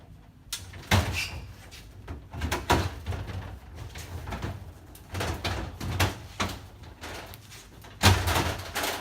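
A snack vending machine tray sliding out like a drawer: repeated close rattling slides and clunks of metal and plastic, irregular bursts with a sharper knock near the end, no talk.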